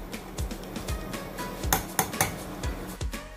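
Metal spoon scraping and clinking against a cooking pot while sliced tomato stew is dished out, a run of sharp close knocks and scrapes with a couple of louder clanks near the middle.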